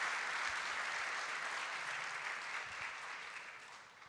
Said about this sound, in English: I'm going to ask for one more proper warm round of applause for our guest, Hillary Clinton, please